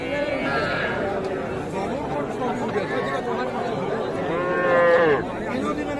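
Heifer calves at a busy cattle market: a drawn-out moo rises near the end over steady crowd chatter, with people talking nearby throughout.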